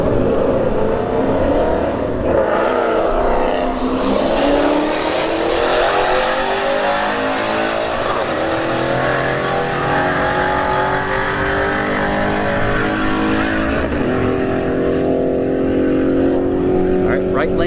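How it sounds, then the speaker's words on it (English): Race cars roll racing at Bradenton Motorsports Park during a Street Heat test-and-tune night, engines roaring loud and sustained with rising acceleration, while an announcer talks over the noise. "Right now, the first half of the day or the night is going to be roll racing."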